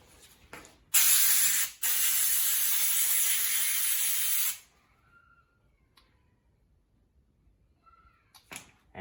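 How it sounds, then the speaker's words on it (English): Compressed air blasts over bolts during a Landcruiser front wheel bearing and spindle service: a short hiss, then a loud sustained spray lasting about three seconds, followed by quiet workshop clicks and faint tool sounds. "Give them a little blow for the air."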